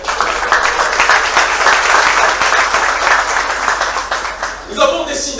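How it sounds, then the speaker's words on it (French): An audience at a political speech in Haiti applauds in a dense, sustained burst of clapping for about four seconds, then it fades as voices emerge. "je vous demande d'applaudir s'il vous plaît"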